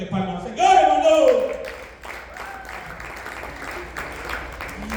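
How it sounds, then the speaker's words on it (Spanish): A church congregation claps and applauds, a loud burst that settles into steady clapping mixed with voices, a shout and a lingering tone. "Dale palmas al Señor, hermano."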